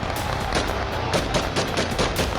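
Celebratory gunfire by rebels in Suwayda, Syria, with repeated sharp shots crackling in irregular bursts over a loud, continuous din of crowd and street noise.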